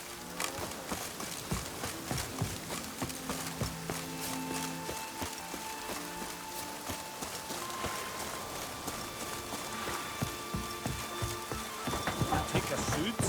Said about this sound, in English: Take a soothsayer to know when it's raining.